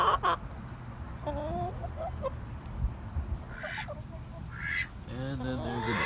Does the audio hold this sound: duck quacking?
yes